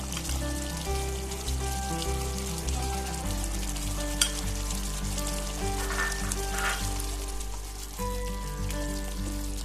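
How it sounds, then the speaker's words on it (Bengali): Potatoes coated in garam masala fry and get stirred in a pan, giving a constant close sizzle with occasional scraping strokes, set against a steady tonal background tune and with no speech. "একটু নাড়া দিয়ে নিচ্ছি যেন মশলাটা সব আলুর সাথে মিশে যায়"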